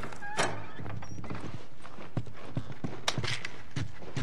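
Horses' hooves clip-clop and thunk in an irregular walking rhythm in The Last of Us video game, fairly close and clear, with a brief whinny near the start.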